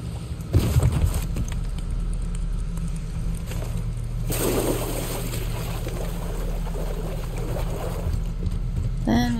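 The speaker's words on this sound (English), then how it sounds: "And then we can get on the boat." A boat in the video game Resident Evil moves across the water with a continuous wash of motor and water noise, steady and fairly loud, plus a brief splashy surge partway through.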